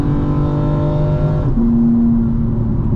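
A BMW M4 Competition xDrive engine revs hard in fourth gear, a loud, close, steady snarling drone that shifts pitch abruptly midway as if changing gear, heard from inside the car with no talking.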